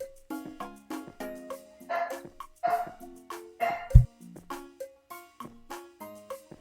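Dogs barking in the background of a noisy game session, a few short yips and barks mixed among busy game music and effects, moderately faint and not the dominant sound.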